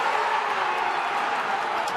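A big crowd at a 2013 ALCS Game 6 baseball game between the Red Sox and Tigers roars steadily on its feet, a dense, sustained wash of cheering with no breaks.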